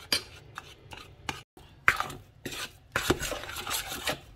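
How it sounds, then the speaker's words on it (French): Ingredients are stirred in a pan until dry, with a utensil scraping and clinking against the pan in irregular bursts, separated by brief pauses and one sharp metallic tick, fairly close and moderately quiet. "je vais les touiller jusqu'à ce qu'ils soient secs"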